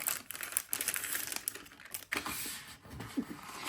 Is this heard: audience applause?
no